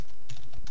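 Brief burst of keystrokes on a computer keyboard while filling in an email form subject line, a few quick clicky taps close to the mic.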